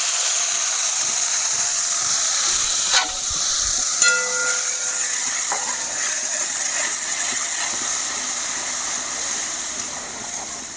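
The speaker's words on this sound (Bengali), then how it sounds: "তো সব কিছু দিয়ে আমি এখন কড়াতে কষতে থাকবো।" Turmeric, cumin, chili and Kashmiri chili powder sizzle in a hot, slightly scorched kadai with oil, a loud continuous hiss broken by a few sharp scraping clicks of stirring.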